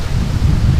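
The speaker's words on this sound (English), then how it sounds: "It's very windy today." Strong wind buffets the microphone beside Lake Superior, a loud, steady low roar filling the short moment with no voices.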